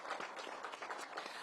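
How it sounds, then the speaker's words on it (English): A crowd at a groundbreaking ceremony for a tennis and learning center claps in a dense, fairly faint burst of applause lasting just over a second. "Please give her a big round of applause."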